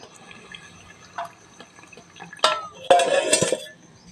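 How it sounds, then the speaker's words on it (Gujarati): Water is poured into a bowl of gram flour mixed with turmeric and coriander-cumin powder, starting with faint drips and clinks before two short, splashing pours into the mixture. "હવે આપણે એમાં પાણી નાખીને"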